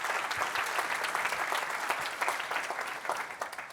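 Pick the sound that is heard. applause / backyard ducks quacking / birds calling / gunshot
applause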